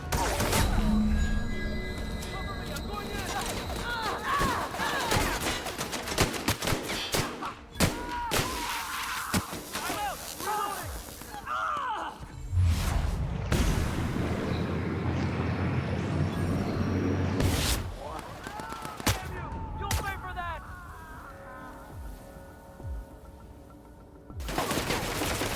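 Repeated gunfire rattles through a firefight in The Outer Worlds, with dense bursts of shots, crashes and thuds that come loud and close in clusters and drop away into brief lulls.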